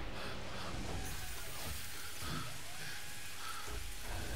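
Steady rain in the game GTFO, in the flooded drainage channels of the Floodways level, a dense, continuous hiss with no breaks and a few faint rumbles underneath.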